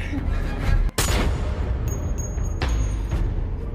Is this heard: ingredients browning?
no